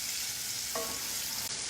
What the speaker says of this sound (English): I'm scraping the pan a little.